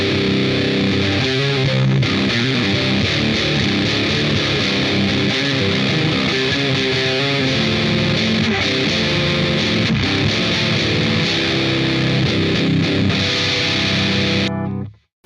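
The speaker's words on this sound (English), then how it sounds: "Apologies for all the feedback as well. It's going to get really hissy in here right now" A heavily distorted guitar pedal on an ambient post-metal rig plays as a loud, dense wall of fuzz with hiss and feedback. It holds steady throughout, then cuts off abruptly at the very end.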